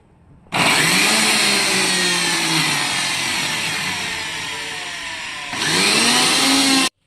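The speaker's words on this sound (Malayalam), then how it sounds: "ഇതൊന്ന് നമുക്ക് പേസ്റ്റാക്കി എടുക്കാം. മിക്സിയിലേക്ക് നമ്മൾ വെച്ചിട്ട്" An electric mixer grinder whirs loudly and steadily while grinding garlic, green chili and ginger into a paste. It runs for about five seconds, pauses briefly, then spins up again for another short burst.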